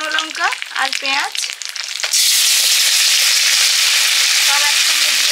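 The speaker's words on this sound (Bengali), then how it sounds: "সব একসঙ্গে দিয়ে দিলাম তেলে।" A voice speaks, then a spice paste of cumin, coriander, dried chilli, onion, chilli and turmeric hits hot oil with a sudden loud, sustained sizzle, and talk resumes over it near the end.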